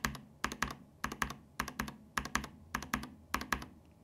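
Keys of a Machenike K600 mechanical keyboard fitted with linear switches tap out rhythmic clusters of two or three sharp plastic clacks, repeating at an even pace, close and fairly soft, with no voices.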